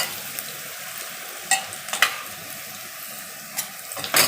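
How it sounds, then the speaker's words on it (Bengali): Ginger frying in a pan for a traditional Bengali katla fish kaliya, a steady soft sizzle with a few sharp clinks and stirring knocks scattered across it, no talking. "আগে আমি আদাটা একটু ভেজে নিই"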